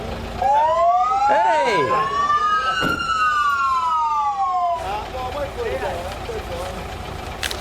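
A fire truck's siren wails up and down in long sweeping tones, loud and close, shifting to a rougher warble partway through, while a voice calls out over it.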